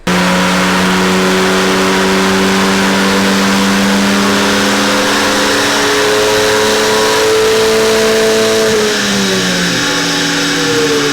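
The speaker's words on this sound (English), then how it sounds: "This is the point where we run it on a MAHA dyno, see what the power is, Phil's going to tune it" A Ford Fiesta ST180 runs on a MAHA dyno, its engine revving hard and loud through a long, rising pull with steadily climbing pitch before the revs drop off near the end.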